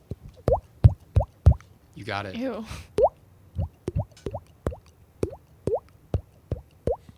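Percussion instruments imitate water dripping: a steady series of bright, hollow plops sounding one after another near and clear, with a short burst of voices and laughter partway through.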